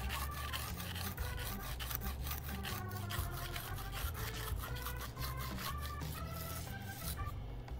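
Steel kitchen knife being sharpened on a whetstone, with steady repeated rasping strokes as the blade is drawn back and forth across the stone, quiet and close, with no voices.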